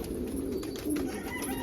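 Pigeons coo outdoors in light snowfall on a freezing morning, giving low, soft, rolling calls that repeat steadily at moderate distance over a faint background hiss.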